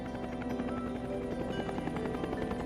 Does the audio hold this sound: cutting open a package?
no